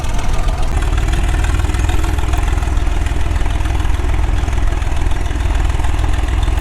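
A low, steady old three-cylinder tractor engine idles continuously, its deep chugging rumble even and unbroken, close by with no other sounds.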